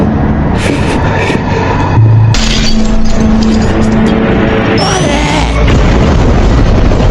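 Car explosion in a film scene, a loud continuous roar of blast and burning with booming low rumble and bursts, dense and sustained throughout with no clear talk.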